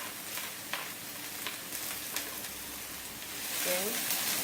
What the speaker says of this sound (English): I'm just now going to add just the onion